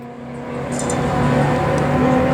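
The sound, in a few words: 4.6L Mustang with Bullet headers racing an LS2 GTO at racetrack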